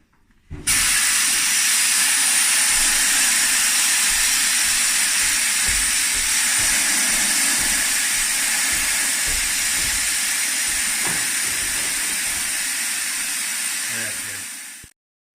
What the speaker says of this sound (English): So I'm using the safety blow-off valve here to fill up the mattress.